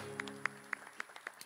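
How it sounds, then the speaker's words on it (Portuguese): A church congregation at a deliverance service claps together in a steady rhythm, faint and somewhat distant, each clap landing at an even pace over a low sustained musical hum. "Aplauda ao Senhor neste lugar."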